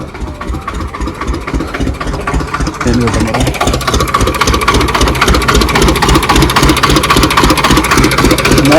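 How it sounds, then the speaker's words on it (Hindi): An engine at a brick kiln, kept running nonstop for three days, drones loudly and steadily throughout, with a rough, pulsing mechanical texture and voices faintly audible underneath. "ये 3 दिन से लगातार चल रहा है इंजन, इंजन ना रुके बस।"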